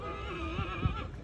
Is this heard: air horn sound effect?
no